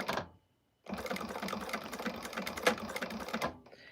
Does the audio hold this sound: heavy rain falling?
no